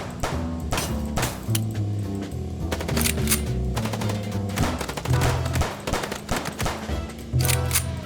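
Gunfire in the detective video game Chicken Police, fired from a six-shot handgun: a loud, steady run of repeated shots and impacts over a low in-game music bed, with no voices.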